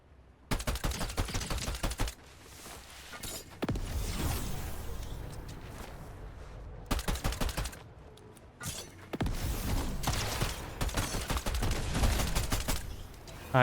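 Rapid bursts of gunfire in the Fortnite video game, in Zero Build mode, with several clusters of quick loud shots broken by short gaps and steadier mechanical game noise.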